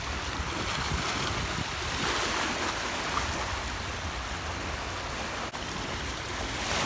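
Ocean surf washes against the seashore at Shimonoseki in a continuous, steady roar, with wind buffeting the microphone throughout and no voices.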